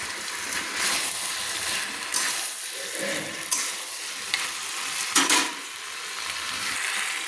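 Fish heads and pui shak (Malabar spinach) vegetables are stirred in a frying pan. A steady sizzle runs under intermittent scraping and stirring strokes.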